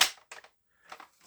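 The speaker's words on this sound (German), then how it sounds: "Jetzt Magazin rein." A magazine clicks into a Recon MK2 semi-automatic toy gun, a sharp click followed by a couple of short plastic rattles and clacks, close and quiet with no talking.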